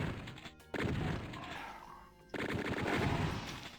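Blasts from a DOOM shotgun fire in rapid succession, loud and dense with gritty impact noise. A brief lull falls in the middle before the firing resumes heavily.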